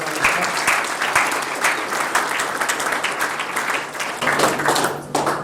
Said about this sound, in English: So we'll give a little round of applause for Zach